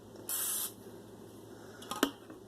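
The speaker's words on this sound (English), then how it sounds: "I'm using this purely olive oil non-stick pan. What we're going to do is we're going to spray this on here first" Olive oil non-stick cooking spray hisses out in one short, bright burst onto a pan, followed by a couple of faint clicks and clatters close by in a quiet kitchen.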